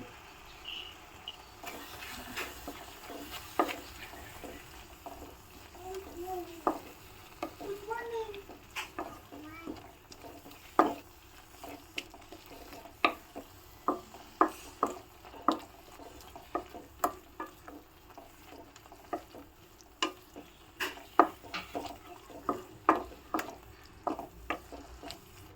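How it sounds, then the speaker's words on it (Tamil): Spices, chilli powder, turmeric and salt stirred together in a pan for egg gravy, a steady scraping and clinking of a spoon against the pan with sharp repeated taps, fairly quiet, with faint background voices. "இது எல்லாம் போட்டு நல்லா மிக்ஸ் பண்ணிக்கிறேன்"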